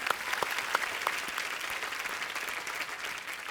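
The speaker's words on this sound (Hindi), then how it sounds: "इनके लिए पहले तो जोरदार तालियां हो जाए" A studio audience at a Hindi TV comedy show applauds guests, a broad even roar of many hands clapping heard at moderate distance, with a few brighter individual claps standing out early on.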